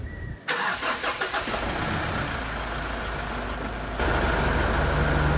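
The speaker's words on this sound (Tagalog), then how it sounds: "So i-start na natin yung engine para malaman natin kung ano nga bang naging dahilan nito." Mitsubishi Strada pickup engine cranked by the starter with a rapid churning whir, catching and settling into a loud steady idle that rises slightly near the end; no talking.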